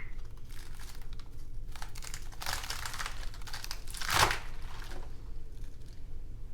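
A knife cuts the base off a head of lettuce, crisp crunchy snaps and rustling leaf crinkles over a few seconds, with one louder cut near the end, close and without talk.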